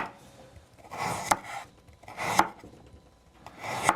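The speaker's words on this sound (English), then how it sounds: "on my last carrot, the carrot is harder to cut" Knife chopping through a hard carrot on a cutting board, three separate bursts of quick crunchy cuts spaced about a second apart, close and clear with quiet gaps between.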